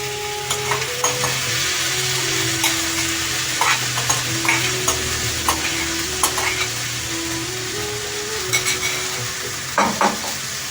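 Mashed banana flower is stirred as it fries with spices in a pan, a steady close sizzle broken by repeated scraping strokes of the spoon against the pan, with no talking.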